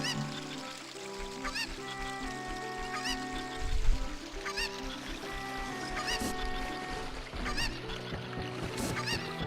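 Harmonic, honking cucco chicken cries in the video game Zelda Ocarina of Time repeat every second or two over a busy layer of game music and ambience.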